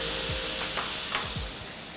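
Pineapple pieces dropped into melted sugar in a hot pan give a steady, close sizzle with a few soft scraping strokes, no voices over it.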